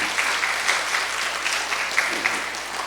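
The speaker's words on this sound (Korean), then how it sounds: "우리 청년들을 위해서 한 박수 한번 쳐줄까요?" A church congregation at a Sunday afternoon service applauds its young adults, a close, steady round of clapping with individual claps standing out.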